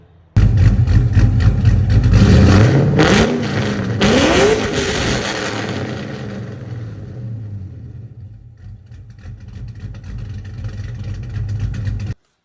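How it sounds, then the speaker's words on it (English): A 1998 GMC SL single cab pickup, a base model truck, starts up close by, revs sharply twice, then settles into a steady, rumbling idle, with no talk. "here is my 1998 GMC SL"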